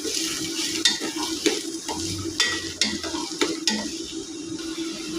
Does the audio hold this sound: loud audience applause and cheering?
no